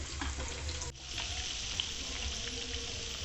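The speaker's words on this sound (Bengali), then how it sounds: "দুটো মিডিয়াম ফ্লেমে করে বেশ সুন্দর করে মুচমুচে করে ক্রিসপি করে কিন্তু ভেজে নিতে হবে" Lotte fish pieces frying until crisp in hot oil over a medium flame, a soft, even sizzle throughout with a brief dip near the start, no talking.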